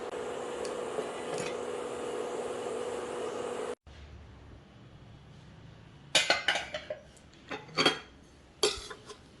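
A metal lid clatters onto a pot of chicken gravy being covered for low-flame cooking, giving several loud clinks and knocks in a short burst after a steady frying hiss cuts off.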